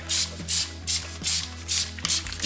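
Brake Buster cleaner sprayed onto car rims in a series of six short, evenly spaced hissing bursts, close and fairly loud over a steady low hum.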